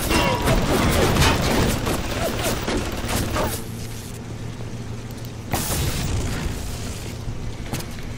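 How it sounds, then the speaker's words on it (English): Gunfire and booming blasts in the Bioshock 2 video game: a dense, loud barrage of shots and impacts for the first few seconds, easing into a quieter rumble, with one more sharp burst before the end. "Who's shooting?"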